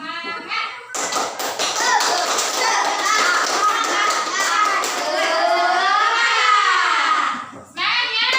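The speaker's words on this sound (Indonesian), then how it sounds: "Tepuk semangat." Schoolchildren in a classroom do a rhythmic spirit clap, a rapid run of sharp hand claps and taps mixed with loud group chanting and children's voices that carries on for several seconds close by.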